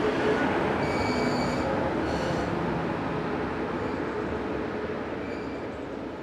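Electric locomotive 143853 pulling in with a passenger train from Köln-Nippes, a steady loud rolling rumble with faint brake or wheel squeals near the start, fading slightly as it slows.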